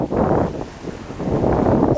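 Wind gusts across Costa Rei beach in Sardinia, a steady broadband rush buffeting the microphone for two seconds, swelling and easing with surf from the clear sea blending underneath, no voices.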